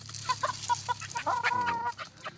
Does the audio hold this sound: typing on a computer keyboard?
no